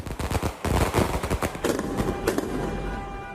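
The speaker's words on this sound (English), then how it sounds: "Fireworks to celebrate a great life and to mark his homecoming." Rapid crackling bursts of fireworks in Brazil, dense rattling pops at first, then a few sharper bangs fading into echoing rumble.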